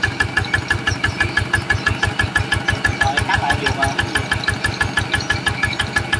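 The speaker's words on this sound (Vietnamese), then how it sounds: "Anh em nghe tiếng máy anh em cảm nhận nha" A Zanma SS 80 diesel engine with a punctured oil tank runs steadily and smoothly, its fast, even chugging pulses loud and close for the whole stretch, with no talking over it.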